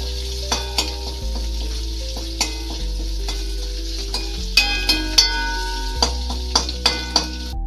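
Garlic sizzles steadily in hot oil in a pan while cooking for Kerala-style rasam, with a spoon or spatula repeatedly clinking against the pan over the continuous frying hiss.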